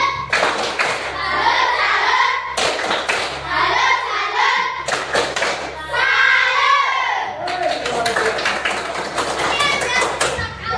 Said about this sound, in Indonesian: Wah, tepuk tangan dulu kalau gitu. Tepuk salut.